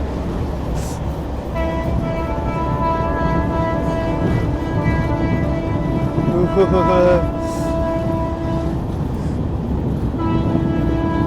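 A train crosses the Thar Desert between Jodhpur and Jaisalmer, its loud steady rumble and rattling carriages filling the scene, with sustained horn-like tones sounding through much of the ride.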